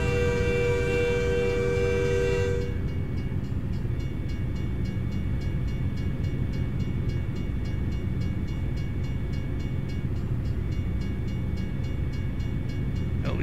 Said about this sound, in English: At least the train stopped.